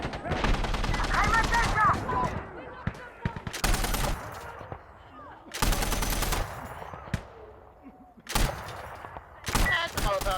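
Bursts of automatic gunfire and single shots crack out in the Insurgency: Sandstorm video game, loud close volleys separated by quieter gaps, with some voice chatter mixed in.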